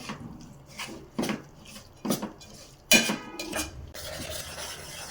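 A spoon stirs a jaggery and milk mixture in a pan, giving close scraping strokes and occasional knocks against the metal in an uneven rhythm, with no talking.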